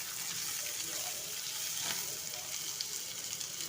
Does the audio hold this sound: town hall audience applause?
no